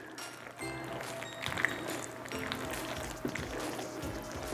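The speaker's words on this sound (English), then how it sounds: "I mean, you can just hear how creamy that sounds." A spoon stirs a pot of creamy baked macaroni and cheese, giving soft wet squelching and sloshing at close range, fairly quiet and continuous with no talk over it.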